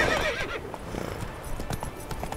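Horse in The Witcher 3 video game, clip-clopping hooves in a steady rhythm with a whinny at the start, fairly close and moderately loud with no talking.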